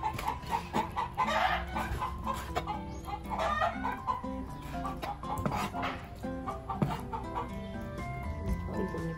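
Chickens clucking and fowl calls, with a rooster among them, heard in a noisy home setting during breakfast cooking, mixed with background sounds and some voices throughout.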